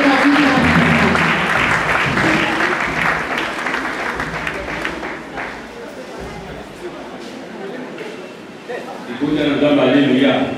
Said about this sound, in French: Alors, sur les acclamations